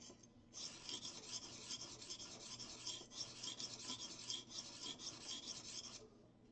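A D2 steel blade is drawn steadily across a high-grit sharpening stone, giving a continuous close rasping scrape with soft rhythmic strokes and no talking.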